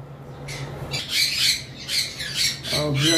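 Pet lovebird or cockatiel at a bird farm giving a series of sharp, loud squawks in quick bursts, close by, with a few softer chirps at the end.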